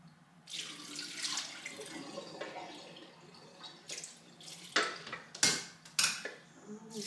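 A tap runs into a strainer as freshly made butter is rinsed, with water splashing and gurgling close by and several sharper clatters of the strainer against the sink toward the end.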